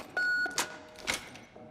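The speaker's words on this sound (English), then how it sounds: "It locks the door." A phone in The Evil Within locks a door with a steady electronic beep, followed by two sharper clicking bursts, close and fairly quiet.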